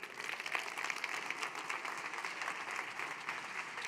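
An audience applauds at the close of a conference panel session on caring for future generations, a steady, dense wash of many hands clapping at moderate distance throughout, with no speech over it.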